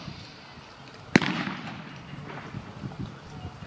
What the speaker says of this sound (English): that's covering fire, keeps the enemy occupied